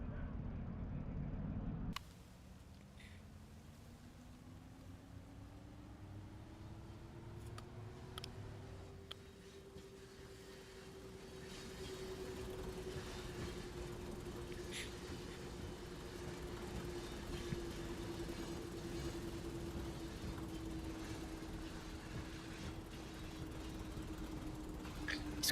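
A diesel railcar engine in Diesel Railcar Simulator drones steadily, its pitch climbing as it accelerates and then holding a low hum, with faint rattles and clicks over it.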